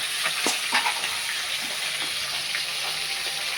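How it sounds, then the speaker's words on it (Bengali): Fish frying in a pan for a Bengali macher jhal fish curry, a steady close hiss of oil with a few brief stirring scrapes and crackles, no voices. "মাছ ভাজা হচ্ছে"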